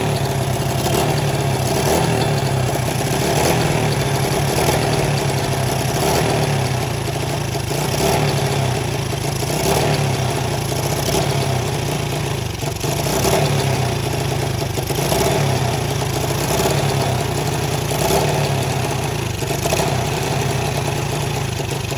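A Racal Wavestyle motorcycle idling after a kick start, its engine holding a steady, loud chugging idle with a constant low throb and light mechanical clatter, close by and running alone without speech.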